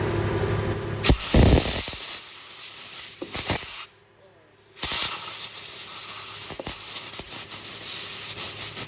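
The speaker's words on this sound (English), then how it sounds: "Air compressor kicked on, of course." Air compressor running in a garage during a Porsche 911 chassis swap onto a Mazda Miata, a steady hissing drone with short bursts of air, briefly cutting out near the middle before resuming.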